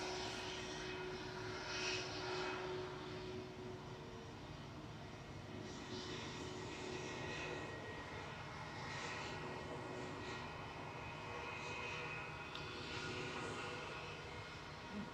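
An SAS Airbus A319 in former Star Alliance livery departs Manchester Airport for Copenhagen, its engines a faint, distant, steady roar with a thin tonal hum running under it and no voices.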